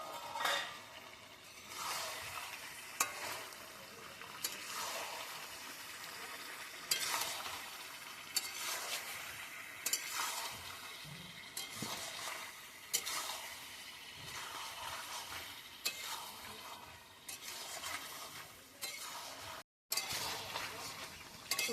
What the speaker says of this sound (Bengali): এবার আমরা ভাজা আলুটাকে মাংসের ভিতর দিয়ে দেবো